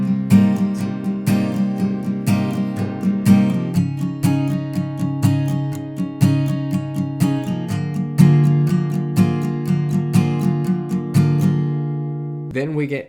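Acoustic guitar strumming the pre-chorus chord progression, steady rhythmic strums ringing out clearly and alone, with a brief bright string noise at the very end.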